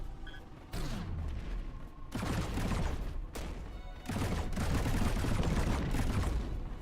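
Turret gunfire in a video game arrives as repeated loud bursts of rapid shots, each volley starting abruptly and running for a second or more, with brief quieter gaps between them.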